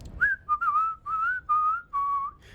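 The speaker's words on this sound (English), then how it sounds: "Sure, the man whistles a jaunty tune." A man whistles a jaunty tune in the video game Disco Elysium, a run of five or six short clear whistled notes with brief gaps, close and alone.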